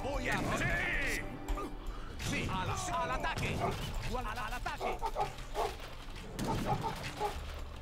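Dogs barking and yipping in bursts during an Age of Empires III battle, mixed with clashing game sounds, while someone talks excitedly over the noise.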